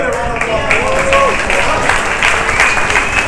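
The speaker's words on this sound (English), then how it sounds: "Give everybody a round of applause." Loud audience applause at a public forum on the future of the Hawaiian nation, continuous crowd clapping with voices and cheers mixed in.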